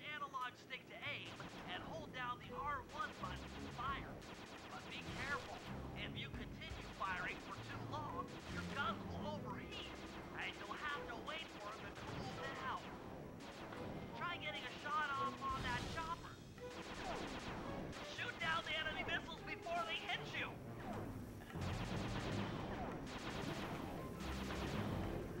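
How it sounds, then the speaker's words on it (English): Missile fire and explosions in the Sly 2 video game, a busy run of booms and crashes over a game music bed, with people talking throughout. "We are shooting missiles"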